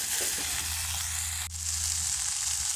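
Githeri, a Kenyan mixture of maize and beans, sizzles and fries steadily in a hot pan while being stirred, a loud continuous crackle with a brief dip midway and no talking.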